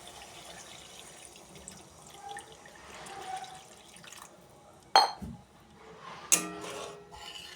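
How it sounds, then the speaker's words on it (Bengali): A little water poured into a hot pan of mustard-paste fish curry, a sudden splashing burst followed by a shorter second splash, close and loud against a quiet kitchen background. "এখন অল্প জল দিয়ে দেবো।"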